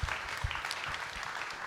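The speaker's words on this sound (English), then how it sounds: "So please give him a big round of applause." Audience applause at a boxing series launch event, a short steady patter of clapping from a crowd at moderate level with a few sharper claps standing out.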